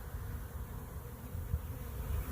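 A honeybee swarm buzzes in a continuous, dense hum that stays even and moderately loud throughout, with no voices.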